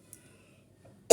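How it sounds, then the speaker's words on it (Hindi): One sharp, close cough erupts at the very end of a quiet indoor stretch, loud and brief, with faint room murmur before it. "थोड़ा खांसी हो गई"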